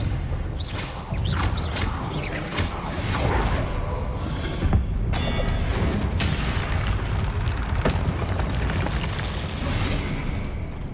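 Confringo blasting spells in Hogwarts Legacy burst repeatedly during a duel, sharp booms and crackling bursts with whooshing casts over a busy, rumbling combat backdrop.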